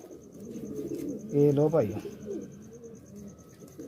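Pigeons coo softly nearby, with one clear throaty coo burst standing out, while someone speaks briefly over a quiet background.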